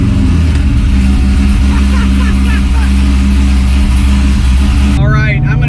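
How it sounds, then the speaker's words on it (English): A car engine runs loud and close on a cold start with a steady, fast idle, someone talking over it, and the sound changing abruptly near the end. "I'm doing a little cold start."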